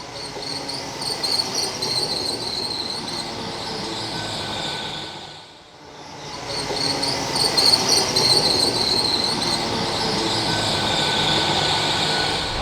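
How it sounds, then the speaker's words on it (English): A Hitachi IET local passenger train from Penzance towards Plymouth passes along the Cornwall main line, its steady rumble and wheel hiss swelling close, dipping briefly mid-pass, then rolling on, with insects chirping in the background. "although this train is a Hitachi IET, it's actually a local service just come from Penzance, heading towards Plymouth"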